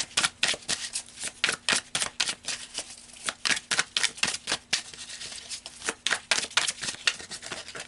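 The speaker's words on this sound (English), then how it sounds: "So I'm going to pull a few more cards here." Tarot cards being shuffled and pulled, heard as a dense run of close, crisp riffling snaps in quick irregular rhythm with no talking.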